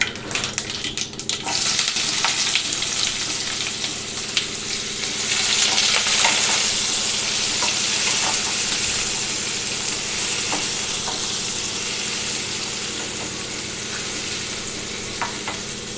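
Mustard seeds and onion fry in oil for an aloo cauliflower curry, a loud continuous sizzle with hissing bursts and stirring scrapes, swelling briefly as the onion goes in and then settling into a steady crackle.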